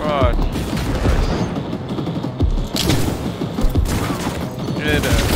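Rapid gunfire rattles in a Cyberpunk 2077 firefight, loud, dense and continuous across the clip, with heavy thumps mixed in and someone talking over it.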